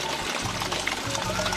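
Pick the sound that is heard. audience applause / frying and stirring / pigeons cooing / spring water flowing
spring water flowing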